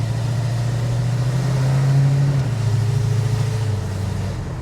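A restored 1971 Dodge Super Bee drives by with a steady, loud engine drone that rises slightly in pitch then settles lower, heard alone and close.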